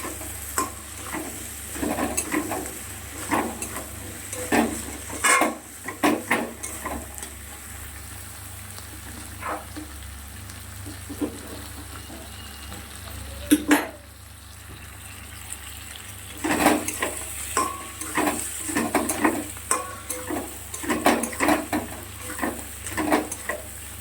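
Prawn curry masala with turmeric being stir-fried in a pan, with repeated scraping stirs and a soft, steady sizzle running underneath throughout.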